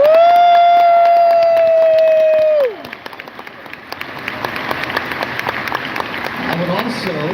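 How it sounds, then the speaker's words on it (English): Applause from a convention closing-ceremony crowd rises after a loud sustained tone fades out, a broad wash of clapping and some cheering that grows and continues to the end. "Let's give one huge round of applause for the folks from DLCC."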